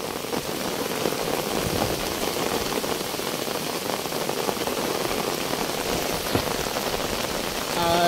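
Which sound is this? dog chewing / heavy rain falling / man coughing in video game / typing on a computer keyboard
heavy rain falling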